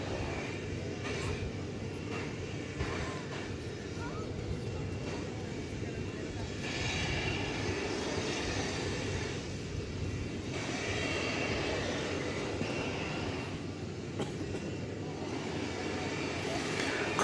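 Jet airliner engines at DFW Airport, Dallas–Fort Worth, a steady broadband roar holding at moderate level throughout, with a distant rumble that swells slightly midway and people talking faintly underneath.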